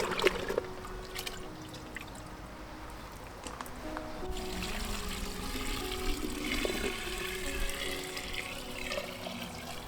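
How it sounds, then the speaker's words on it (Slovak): Rainwater pours into a large container packed with nettle leaves, a continuous gushing, splashing flow with trickling undertones lasting about ten seconds, fairly faint and steady throughout. "Zalejem dažďovou vodou takmer až do plna."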